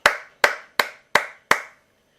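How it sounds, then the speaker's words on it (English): Five sharp hand claps ring out at an even pace, each one loud and close with a short decaying tail, followed by silence. "Did you hear me clapping?"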